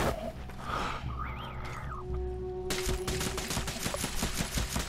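Rapid automatic gunfire in Ghost Recon Breakpoint, a dense run of close, loud shots starting partway through after quieter game ambience and a rising tonal effect.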